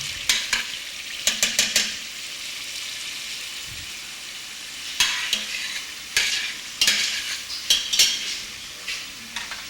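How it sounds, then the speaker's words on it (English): All-purpose seasoning being stirred into a beef jollof rice mixture in a pot in Ghana, a spoon scraping in short bursts of clustered strokes over a soft continuous sizzle. "All-purpose seasoning is added and stirred."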